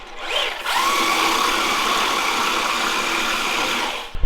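A Traxxas all-wheel-drive remote control car runs in a shop, its electric motor whining loud and steady for several seconds before cutting off.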